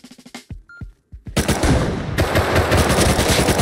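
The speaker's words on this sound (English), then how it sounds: "I shot one bullet and then she started reloading." A gun in the console version of the video game Rust fires a rapid burst of close, sharp shots, followed after a short pause by a loud, sustained spray of automatic fire.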